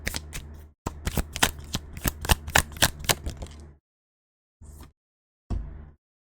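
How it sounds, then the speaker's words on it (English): Tarot cards shuffled by hand in fast riffling bursts, several dense runs of crisp card flicks close to the mic, then a pause and two short final shuffles. "So let's get another card here."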